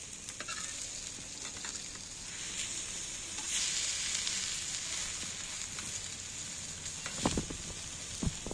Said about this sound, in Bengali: এইবার আমি ডিমগুলো একটা একটা করে দুদিকেই ভাঁজ দিয়ে দিচ্ছি